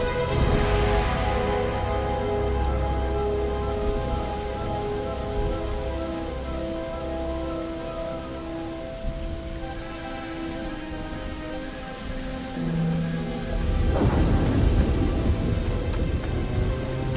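Rain patters steadily and thunder rumbles in the game Starfield, a constant wash of storm sound that swells near the end.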